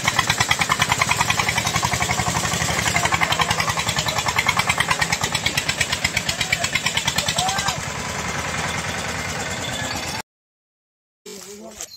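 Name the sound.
tractor engine straining to pull out trolley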